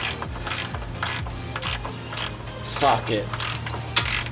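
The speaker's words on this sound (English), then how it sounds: "and just tighten it up." A 16mm ratchet tightens the oil drain plug on a 2004-2010 Ford F-150 with a 5.4L or 4.6L Triton V8, giving a run of close, crisp ratcheting clicks in short repeated bursts over a steady low hum.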